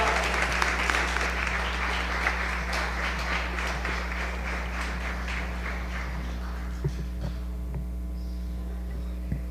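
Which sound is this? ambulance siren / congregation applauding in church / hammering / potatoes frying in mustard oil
congregation applauding in church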